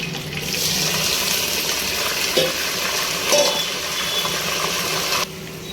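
Green chilies, onion and curry leaves fry in a pan for a capsicum masala curry, making a loud, steady sizzling hiss with a couple of brief stirring knocks before it drops off sharply near the end.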